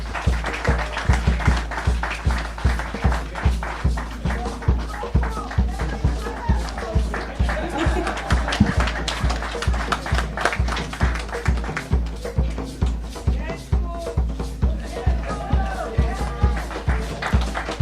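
Applause at a ceremony for recipients handed the keys to their new homes, a regular rhythmic clapping that keeps up a steady beat for the whole stretch, with voices carrying over it.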